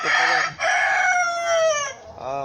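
Backyard chickens kept at a rural farm, with a rooster crowing loudly and close up amid clucking hens, a short burst of calls with brief pauses.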